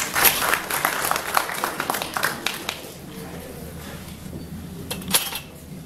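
Audience applause at a Karachi AI meetup, a burst of scattered close claps that thins out and fades after a few seconds, with faint talk underneath.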